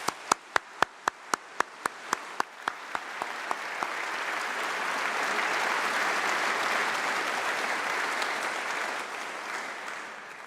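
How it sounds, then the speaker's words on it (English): Audience applause at a graduation congregation ceremony: a few sharp separate claps at first, quickly swelling into dense, sustained clapping from a large crowd that stays steady and full to the end. "let's give a huge round of applause to everybody who's helped you to get here today"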